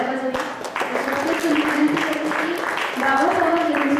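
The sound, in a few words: audience applauding loudly at a book publishing event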